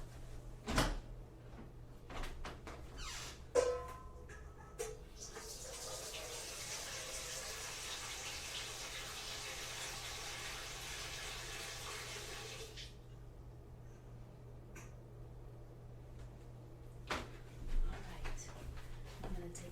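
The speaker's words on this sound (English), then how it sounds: "I'm going to go fill that with some nice warm water" A tap runs warm water steadily into a bowl for several seconds, framed by clunks and knocks of handling before and after, indoors and fairly quiet.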